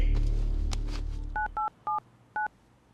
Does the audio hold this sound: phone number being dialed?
yes